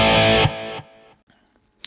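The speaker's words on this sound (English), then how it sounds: "on B, I have the same amp, just louder and with a little bit more distortion" Electric guitar through a Digitech RP355 multi-effects pedal on a louder, more distorted amp setting, a sustained distorted chord cut off abruptly, then a second shorter ringing tone fading out, with a brief pick noise at the end.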